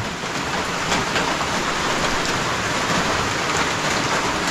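Steady rain falling on a farm, a dense even hiss of drops striking surfaces, close and continuous without pause, with no voices.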